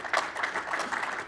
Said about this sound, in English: Please clap for Vietnam vets